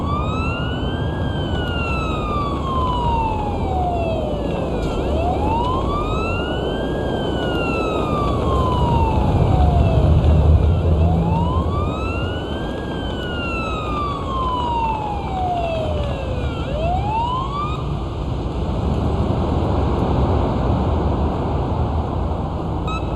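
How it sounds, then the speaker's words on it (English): A wailing ambulance siren in a paramedic simulator game sweeps up and down in long repeated cycles, loud and steady over a low engine rumble, with no talk. "Use the siren as needed."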